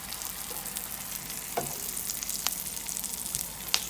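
Shallots sizzle and caramelize in a hot pan, a steady close crackle with scattered sharper pops and faint stirring, no talking.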